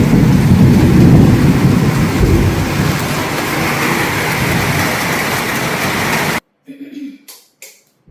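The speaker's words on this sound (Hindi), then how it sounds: "कितनी अच्छी बारिश हो रही है।" Steady heavy rain pours with a dense hiss and low rumble, then stops abruptly, leaving a few quiet knocks and faint sounds.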